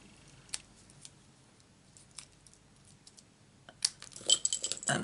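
Scissors snip paper stamped leaves off a Stampin' Up Pretty Perennials card design, giving a few scattered faint close cuts and then a busier cluster of crisp clicks and rustles near the end.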